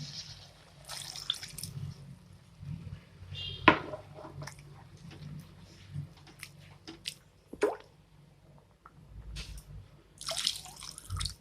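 Water poured into a pot of drumstick leaf curry gives soft squishy splashes and drips, with a few sharper trickles close by, fairly quiet, and no talk.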